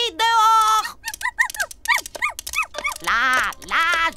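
Cartoon dogs bark and yip in a rapid, animated series of short pitched yelps, loud and close, with a brief growl-like start, in a French Robotboy cartoon episode.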